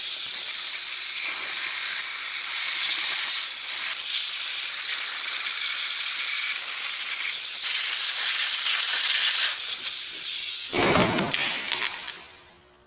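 Aerosol carburetor cleaner sprays in a loud, steady hiss through the jets of a go-kart carburetor, close and continuous for about eleven seconds before it cuts off with a brief clatter.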